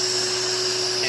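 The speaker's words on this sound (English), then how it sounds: "Now if I use these clippers on you, it's vacuum." Vacuum hair clippers running, a steady close whine with a constant drone and airy suction hiss, no pauses, with a faint voice underneath.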